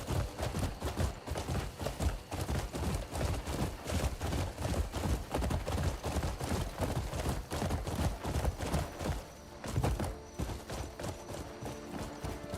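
A horse's hooves pound steadily in the video game Crimson Desert, a close, continuous galloping rhythm that carries on for many seconds.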